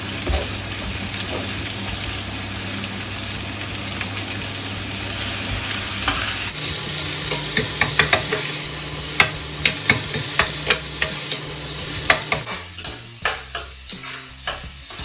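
Three chopped onions sauté in a pan for prawn pepper masala, a steady close sizzle with repeated scraping stirs that grow sharper and more rhythmic toward the end.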